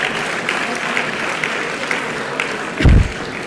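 A ceremony audience in Soustons applauds regional Aquitaine sports champions with steady, even clapping throughout and a brief low thump near the end.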